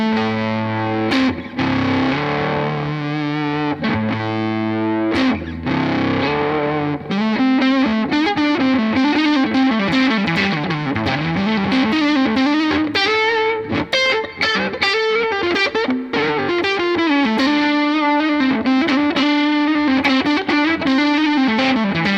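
A Hologram Chroma Console effects pedal processes a guitar with fuzzy distortion and modulation, its effect running without switching direction; strummed chords and sustained melodic lines ring loud and continuous, layered and shimmering, with no talking.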